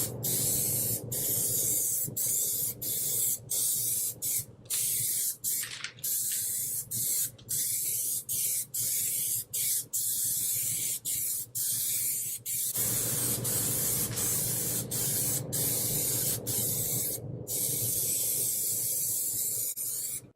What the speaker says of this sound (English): If you're back here misting the product on from a distance, the product is going to land in individual droplets